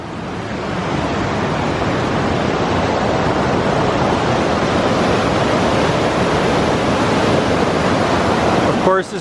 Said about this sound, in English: this is the Cross River, so it's a pretty good river with some big waterfalls.